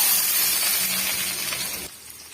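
A steady hot-oil sizzle as a handful of chopped small onions fry in a pan for an egg gravy, hissing loudly before dropping off abruptly near the end.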